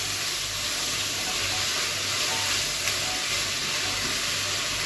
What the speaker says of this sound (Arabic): ننزل كده على البصله، نفضل نقلب كده